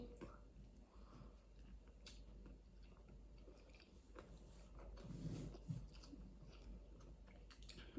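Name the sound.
biting and chewing a burger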